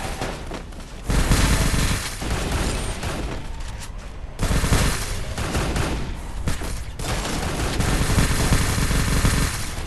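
A gun in the Free Fire video game fires in long rapid bursts, loud, dense and continuous with brief dips between volleys.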